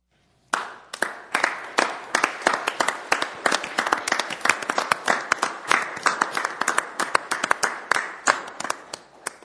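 Applause at a Board of County Commissioners meeting bursts out after a moment of silence: a small room of people clapping crisply and steadily for about nine seconds, the individual claps close and distinct.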